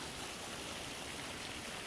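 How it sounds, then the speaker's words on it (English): Water from a karst spring spilling down a small artificial cascade in an old canal, a steady, close, broadband rush with no pauses and no voices. "goes through what used to be a canal. A little artificial cascade."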